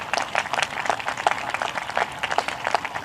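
A room applauding Science Department winners at a high school scholarships and awards night, with distinct individual claps audible in a fairly sparse, lively patter.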